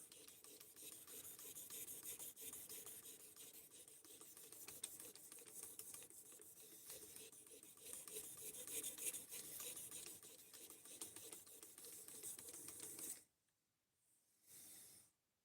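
A knife blade being sharpened with steady, continuous scraping and rubbing strokes, close and fairly loud, running without pause for about thirteen seconds before stopping abruptly, followed by a brief faint scrape near the end.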